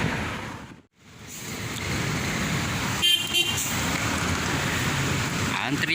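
Queues of private cars crawl through a heavy holiday jam on the Cipali toll road, a steady broad rumble of traffic with a brief dropout near the start and a faint horn-like tone later.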